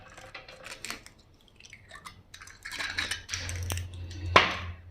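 A spoon beating an egg into a chicken 65 marinade with Kashmiri red chilli powder in a bowl, close wet squelching and scraping with clinks against the bowl, starting sparse then turning busier and louder.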